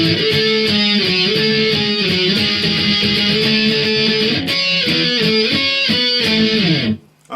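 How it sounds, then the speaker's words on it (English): Distorted electric guitar plays fast octave runs from a song intro, loud and continuous with shifting pitches, cutting off sharply near the end. "Instead of playing power chords, we're going to be playing some octaves, and it's quite quick."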